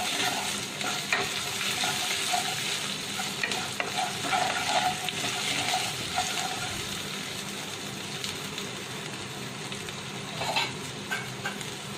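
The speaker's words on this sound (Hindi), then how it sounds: "इसे भी आधा मिनट के लिए हम भून लेते हैं।" Ginger-garlic paste and spices frying in a pan for achari aloo, a continuous close sizzle with soft stirring scrapes throughout, steady and moderately loud, with no talking.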